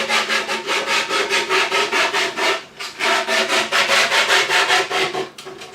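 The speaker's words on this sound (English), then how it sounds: "Once you've cut it on the bandsaw, you're going to want to put it somewhere so you can sand it." A wooden shield is hand-sanded with 180 grit sandpaper, a close, loud rhythmic scratching of quick back-and-forth strokes, with two brief pauses.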